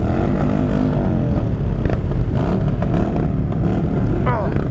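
Harley-Davidson and Yamaha motorcycles on a Santa Claus charity ride, a dense, continuous rumble of many engines close by with revs rising and falling and people talking over it.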